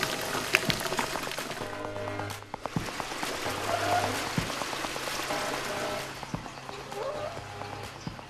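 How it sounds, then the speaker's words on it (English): Liquid grout is poured into the gap between a HOBAS manhole liner and the old manhole, a faint, steady trickling and splashing with scattered drips over a low background hum. "Liquid grout is poured into the space between the liner and the old manhole."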